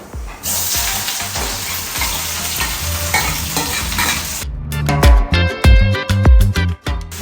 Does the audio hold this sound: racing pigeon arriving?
no